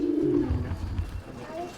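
Several pigeons, including an open-tailed pigeon, coo in low, throaty bursts at close range, with a strong rumbling coo at the start and softer cooing continuing beneath.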